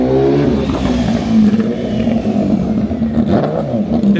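A MV Agusta Brutale 1000RR motorcycle fitted with a titanium exhaust revs up close and loud, its deep throbbing engine note rising and falling in repeated throttle blips with no talking.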